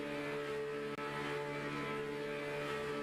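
A Porsche race car engine in a racing video game, at the Long Beach round of an esports cup, holds a steady, loud droning note for a few seconds with no voices over it.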